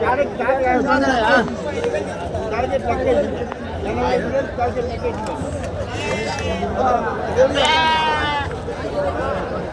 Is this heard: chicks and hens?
no